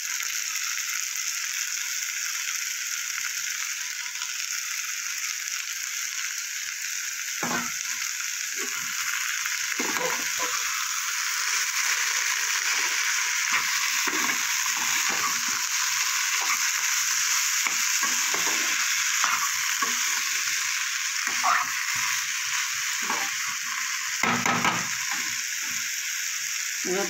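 Drumstick flowers sizzle and fry in a pan of potato and eggplant cooked with mustard and poppy seed, with steady frying hiss and repeated scraping stirs, no talk.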